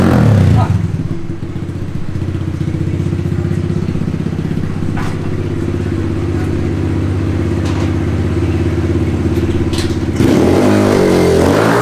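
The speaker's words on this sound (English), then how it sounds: "I had to hit the kickstart just to humble myself real quick." Kawasaki KLX110 pit bike engine idling steadily after a kickstart, a close, continuous single-cylinder putter with faint clatter and a brief rev near the end.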